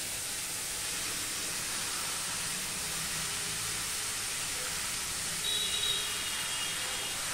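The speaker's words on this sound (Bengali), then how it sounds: "এবার আমি কড়াইতে লাউটা দিয়ে দিলাম।" Bottle gourd drops into a hot wok and sizzles, a steady broad hiss that holds evenly throughout with no talking.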